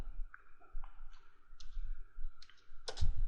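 Computer keyboard shortcut keys pressed while copying and pasting between Word and PowerPoint, a few sharp plastic clicks spaced irregularly, close and fairly quiet, with a denser clatter near the end.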